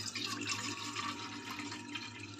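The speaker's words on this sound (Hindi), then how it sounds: "अब डालबो हमन इमें पानी।" Water is poured from a tap into a pot set up for steaming dhokla at home, a steady faint filling rush with a low hum underneath, continuous and without speech.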